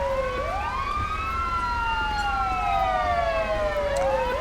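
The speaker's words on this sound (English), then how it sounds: "Alright, y'all can turn off your siren now." A police car siren in the video game GTA V wails on and on, its pitch sweeping up and down in long rising and falling glides over a low rumble of traffic, loud and close, with no voices.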